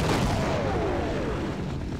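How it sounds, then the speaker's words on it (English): Airstrike explosions rumble through a Half-Life level on PC, a dense, continuous low roar of booming blasts that stays loud and steady for the whole two seconds, with no talk over it. "Oh, airstrikes."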